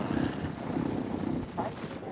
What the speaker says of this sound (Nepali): कस्तो हावा लाग्यो।